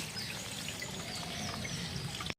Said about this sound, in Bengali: চালটা ধোয়া হয়ে গেছে। এখন জলটা ফেলে দেব।